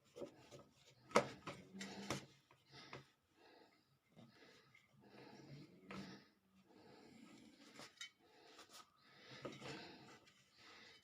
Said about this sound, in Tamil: இப்போவே நான் கட் பண்ணிடுறேங்க சூட்டோடு கட் பண்ணிடணும்